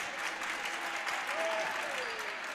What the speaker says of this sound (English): This capacity crowd trying to get behind the Trojans here